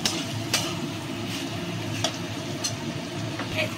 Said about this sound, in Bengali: দেখুন, সব আনাজগুলো আমি সুন্দর করে কষে নিচ্ছি।